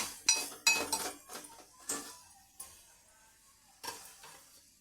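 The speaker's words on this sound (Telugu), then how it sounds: "మళ్ళీ ఒకసారి కలుపుకోవాలి" Spoon scraping and clinking against a pot while mutton curry with tomato is stirred, a series of sharp, close metallic knocks and scrapes spaced irregularly, with quieter gaps between them.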